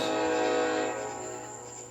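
A distant train horn holds a long, steady, layered tone, fading slightly toward the end, with no talking.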